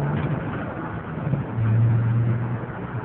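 A 2002 Mercedes-Benz E320 accelerating on a test drive, heard from inside as a low, steady engine hum that swells and deepens midway before settling, quiet and smooth with no voices.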